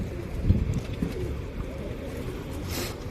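A pigeon with beaded leg bands coos softly nearby, a few low murmuring calls early on over a quiet background with light rustling.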